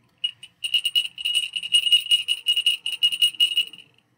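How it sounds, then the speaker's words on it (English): Small handbells rung repeatedly in a classroom music lesson, a rapid bright jingling run of many strikes lasting about four seconds, close and fairly loud with no talking. "ringing our bells"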